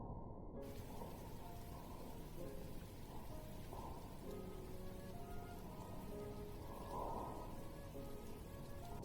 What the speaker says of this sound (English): the rain had already gotten much heavier